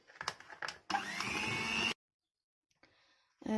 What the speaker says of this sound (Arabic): خلاص كده انا ضربت السكر مع السمنه اهو لحد ما لونها اتغير وعملت فوم